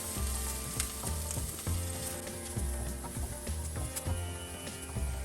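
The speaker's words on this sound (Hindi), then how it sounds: "इधर मैंने 3 लहसुन के कलियां यानी कि गार्लिक क्लोव्स लिया है, फाइनली चॉप कर लिया है। हल्का सा कलर चेंज होने तक फ्राई करेंगे।" Finely chopped garlic cloves fry in oil for a mixed vegetable soup, giving a loud, close, constant sizzle and crackle with a string of spatula knocks and scrapes against the pan, and no voice.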